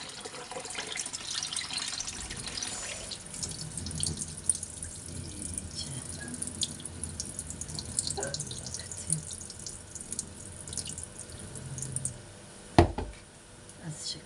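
Food is rinsed under a running kitchen tap at the sink during chicken-and-rice dinner prep: a steady stream of water splashes and trickles throughout, with a sharp knock against the sink near the end.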